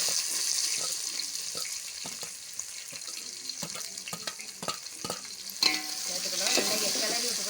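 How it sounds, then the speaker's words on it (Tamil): Small onions (shallots) fry and crackle in a pan for a tomato biryani while a spoon stirs them, with steady sizzling and sharp scraping clicks of the utensil scattered throughout, up close and without talk. "நல்லா கிளறி விட்டுக்கிடுவோம்."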